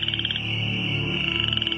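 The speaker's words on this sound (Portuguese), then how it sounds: "milhões de rãs do rio Nilo saíram da água e invadiram as terras" Many Nile river frogs croak together in a dense, continuous chorus, close and loud, with rapid repeating calls layered over one another.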